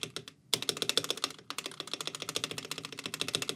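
Rapid, steady key strikes on a Keychron K6 mechanical keyboard in a space bar test, crisp close clacks with a short pause early on and another near the middle, no talking.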